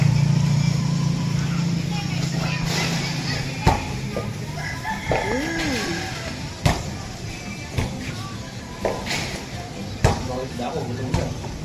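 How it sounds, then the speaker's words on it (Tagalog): A rooster crows a few times in the distance over outdoor ambience at sunrise in Zambales, Philippines, with scattered sharp clicks and people talking nearby. "tilaok ng manok"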